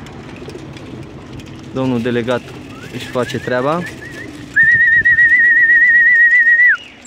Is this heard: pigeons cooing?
yes